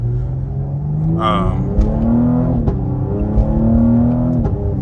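Cadillac CT5-V engine in manual mode revving up close inside the cabin, with its deep pitch climbing in a couple of rising pulls while someone talks over it.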